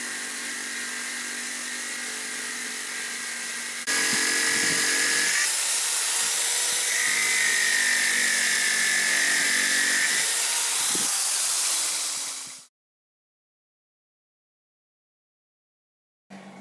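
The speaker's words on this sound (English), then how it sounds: "I'm going to take my cutoff wheel and cut that off so that we have a smooth piece." Cutoff wheel grinding through metal ridges on a steel wrench being shaped into a dagger, a loud continuous high whine that shifts pitch as the cut loads and eases, then cuts out abruptly into silence near the end.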